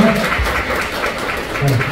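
Church congregation applauding departing members during a Sunday service, moderate clapping from a modest crowd with a voice faintly audible beneath it.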